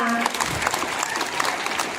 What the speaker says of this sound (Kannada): ಎಲ್ಲರೂ ಜೋರಾದ ಚಪ್ಪಾಳೆಯ ಮೂಲಕ ಅವರನ್ನ